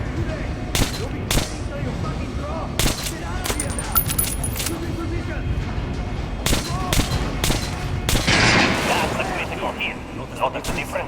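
Gunfire in the video game Metro Last Light Redux, aimed at an armored target: a series of sharp, irregular shots and impacts, some close together, over a steady background rumble.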